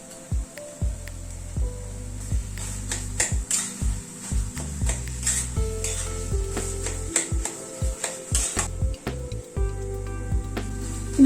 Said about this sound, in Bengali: দু 3 মিনিট মতো ছানা মাখাটা পাক দিয়ে নিলাম।